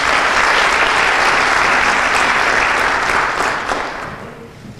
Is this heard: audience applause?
yes